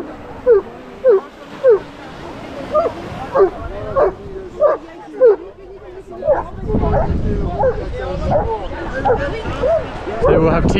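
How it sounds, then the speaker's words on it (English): Dogs bark in repeated sharp bursts at a seaside beach where several dogs are swimming, with a steady wash of sea and crowd chatter building underneath toward the end. "Everyone has just taken their dogs for a swim in the sea."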